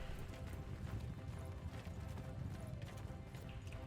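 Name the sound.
horse hooves galloping in video game Bannerlord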